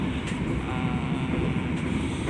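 Steady rolling rumble and wheel-on-rail noise from inside the Argo Merbabu passenger train on the Gambir to Semarang Tawang run, continuous and moderately loud with no voices.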